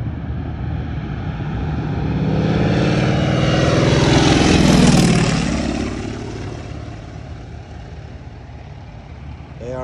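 Propeller airplane making a low pass over an airshow crowd, its engine drone swelling loud as it nears and peaks overhead with a falling pitch sweep, then fading away, with crowd voices faintly underneath.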